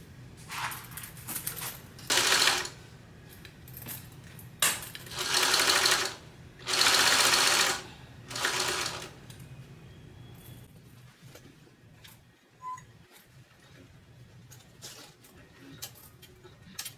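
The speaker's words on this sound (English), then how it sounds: "we're going to go and get this attached at 1/4 of an inch seam allowance" A sewing machine stitches a pocket onto a zipper at a quarter-inch seam allowance, running in several loud, steady bursts with short pauses between, then falling quiet with faint handling noise.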